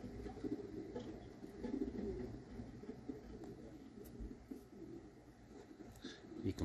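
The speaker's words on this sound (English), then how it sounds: "You can probably hear my pigeons behind me." Homing pigeons in a small loft beside a greenhouse aviary coo softly in low repeated throaty calls, close by and steady, with faint background rustling and no voices.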